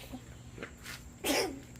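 A single sneeze, faint and short, bursting out near the end of a quiet indoor moment with soft background noise.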